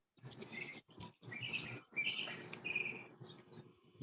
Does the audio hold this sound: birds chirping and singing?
yes